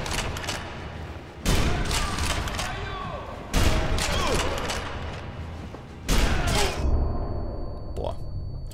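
Enemy gunfire in Sniper Elite V2, three loud bursts of rapid shots with rattling tails between them, close and harsh, a faint tone appearing near the end.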